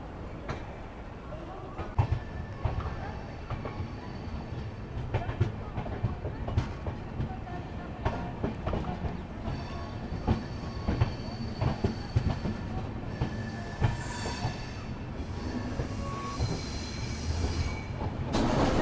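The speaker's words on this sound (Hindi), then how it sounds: "ट्रेन जो है 5 मिनट के होल्ड के बाद जो है निकल चुकी है" The 12555 Gorakhdham Superfast Express rolls out on the Delhi to Bhatinda route, heard from on board as a rumbling run with rhythmic wheel clatter and squeals, and muffled voices underneath.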